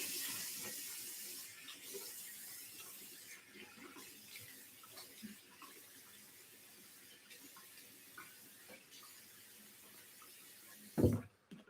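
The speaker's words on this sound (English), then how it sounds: "Rinse off." Water runs from a tap for a rinse after a bevel-set shave, a steady splashing stream that fades lower partway through, with a brief louder knock or splash near the end.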